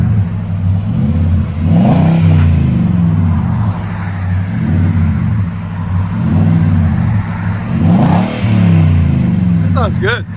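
A 2022 Nissan Titan Pro 4X 5.6L V8 with a Magnaflow exhaust revs repeatedly, a loud, deep burbling rumble rising and falling in several close pulls.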